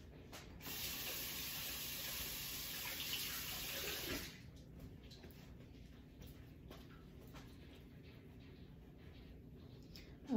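Tap water runs steadily from a faucet as hands are washed in a home kitchen, a loud broadband spray for about four seconds that then cuts off, leaving quiet room tone.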